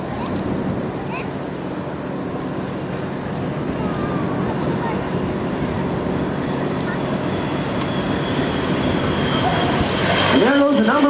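A propeller aircraft engine at an air show drones steadily and loud throughout, with wind buffeting and a brief higher whine near the end as the number one engine is shut down and feathered; a commentator talks over it.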